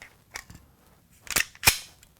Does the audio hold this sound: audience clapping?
no